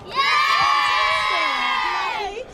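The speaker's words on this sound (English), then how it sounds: "Give us a cheer." Young people at the Labour Party conference let out a loud, sustained group cheer with high whoops and shouts, close and strong for over two seconds before fading.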